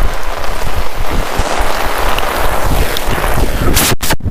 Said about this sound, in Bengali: প্রচুর পরিমাণে বৃষ্টি।